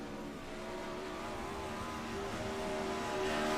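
Several race car engines drone steadily on a dirt speedway in the iRacing sim, a continuous loud roar that swells slightly toward the end, with no voices.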